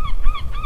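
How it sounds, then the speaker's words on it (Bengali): A few loud, close honking calls from goose-like birds in the sky follow one another in a quick, uneven rhythm over a low background rumble. "আকাশে পাখির ডাক।"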